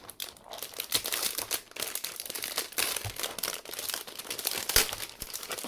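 Thin plastic sleeve around a thick keyboard cable crinkles and crackles close up in a steady run of irregular rustling bursts, with no voices.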